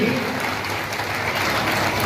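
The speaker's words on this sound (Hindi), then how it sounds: "एक बार सबकी तालियां उनके सम्मान में जोरदार रखने, लोगों की भी ताली ना रुके" A large crowd claps hard and steadily at a farewell ceremony for headmaster Gopal Pathak, a dense, even wall of applause that holds for the full two seconds without a break.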